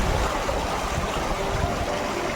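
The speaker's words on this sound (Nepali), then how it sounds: "खोला आइपुग्यौँ है सङ्लो पानी" Clear river water flows steadily in a hillside stream, a continuous close rushing and gurgling with no voices.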